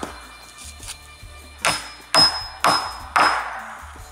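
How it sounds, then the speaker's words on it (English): A hammer levers a nail out of wood during an outdoor kitchen build, giving a few soft creaks followed by four sharp metallic cracks and pings in quick succession, with no talking. "And that's how you remove a nail."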